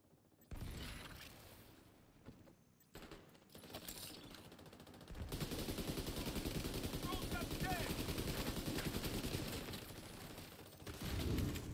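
Rapid machine-gun bursts and scattered gunshots from a PS5 shooter game, loud and nearly continuous with dense fusillades, with brief quieter gaps and a player occasionally talking over the action.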